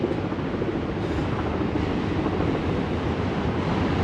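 A train rumbles past in New York City near the Brooklyn and Manhattan bridges, a broad, steady roar mixed with wind buffeting the microphone, loud and sustained throughout.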